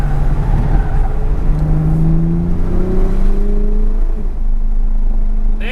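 A 2020 Toyota Supra engine drones at close range, with its pitch sliding slowly during a sluggish paddle downshift to second gear, then settling into a steady hum without any talk.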